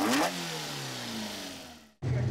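Fuel-injected race car engine with a modified setup on a track, revving high then dropping into a smooth, steadily falling tone before a sudden cut and a fresh rev, close and loud.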